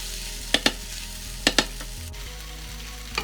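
A first-time home stir fry sizzles in a pan under a steady low hum, broken by a few sharp clacks of a utensil against the pan that come in pairs, then a single softer knock near the end. No voices are heard.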